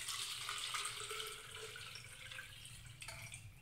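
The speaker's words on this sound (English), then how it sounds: "fill your container with water" Tap water pours into a container, a close, faint splashing trickle that gradually softens as the vessel fills, with no speech.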